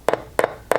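A speaker from a 1951 Zenith H1086R radio gives three short, dull clicks at even intervals as a 1.5 volt battery is touched to its terminals, heard close and alone.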